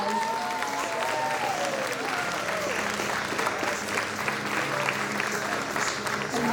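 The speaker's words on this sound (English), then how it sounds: "Let's give them another big round of applause." Warm sustained applause from a pageant audience for Little Miss contestants, steady clapping filling the hall for several seconds while a voice carries over it.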